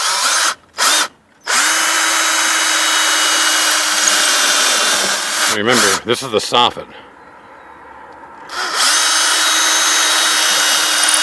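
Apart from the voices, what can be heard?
power drill pre-drilling into wood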